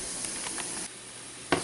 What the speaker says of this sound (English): I've added about half a cup of water and let them steam in that for about another 5 minutes